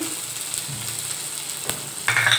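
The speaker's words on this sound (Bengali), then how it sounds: "আমি এখন পেঁয়াজ আর কাঁচামরিচ দিয়ে দিচ্ছি" Onions and green chillies sizzle in hot oil with black mustard seeds, a steady close crackle with a brief stir partway through and a brighter hiss near the end.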